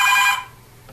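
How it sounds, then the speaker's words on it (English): A telephone bell rings loudly in one short burst that cuts off, leaving quiet room tone, with a faint second ring starting near the end. "oh, my phone is ringing."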